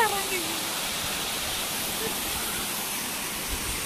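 Parikkad waterfall, heard as a steady, broad rush of falling water that fills the scene evenly for several seconds at moderate loudness.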